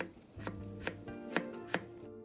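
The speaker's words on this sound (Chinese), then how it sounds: "切点脆瓜摆盘。" Knife chopping pickled cucumber on a board for plating beside roast pork belly char siu, four crisp evenly spaced chops rising over a faint low hum, no talking.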